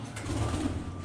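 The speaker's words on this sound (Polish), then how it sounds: "Słuchaj strasznie gołębie." Soft, low pigeon cooing murmurs inside an abandoned grain elevator against a steady background hum, faint and brief.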